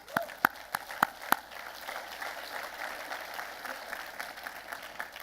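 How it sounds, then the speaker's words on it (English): An audience at a community annual report event applauds, with a few sharp individual claps at first, then a soft sustained patter of clapping from the crowd. "So I think that deserves a round of applause"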